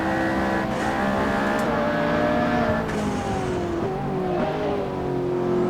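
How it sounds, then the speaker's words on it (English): A V6 race car engine in the Assetto Corsa racing game holds a steady, loud drone with shifting pitch, rising and easing as the car rides through gears, continuous and close throughout without any voices. "As V6s go, I quite enjoy that sound."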